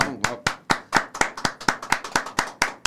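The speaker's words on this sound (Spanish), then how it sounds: "vamos a recibir un aplauso aquí adentro, señor" A few people clap in a studio for a guest, with sharp, evenly spaced hand claps in a quick steady rhythm, close and fairly loud.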